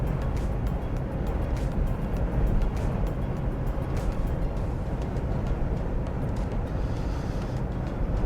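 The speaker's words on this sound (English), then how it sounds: "Can you hear the wind over the car noise and over the music?" A car drives from Dymchurch toward New Romney on a windy day, with a steady, dense road and engine rumble mixed with wind buffeting, continuous and close, with no one talking.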